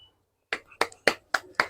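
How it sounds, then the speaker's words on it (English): Five sharp, evenly spaced hand claps ring out close and alone after a moment of silence, each a crisp single strike. "Clap for ya."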